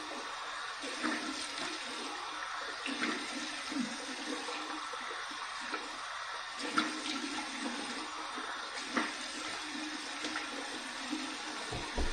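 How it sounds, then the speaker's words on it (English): Cold tap water runs steadily into a bathroom sink for a post-shave rinse, a continuous close rushing stream with small splashes as hands move through it. "All right, cold water rinse."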